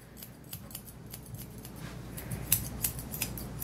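Scissors snip steadily while trimming hair on a small groomed terrier, a run of quick close crisp cuts that grow a little louder and sharper toward the end, with no talking.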